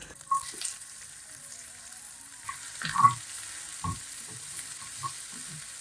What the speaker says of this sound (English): Next, I'm going to throw in the onions as well.